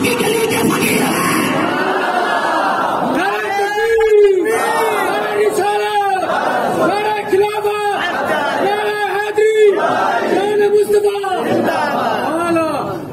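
A large crowd at a religious gathering marking the martyrdom of Imam Hussain chants slogans in loud, rhythmic call-and-response bursts, the massed voices rising and falling in a steady repeating pattern.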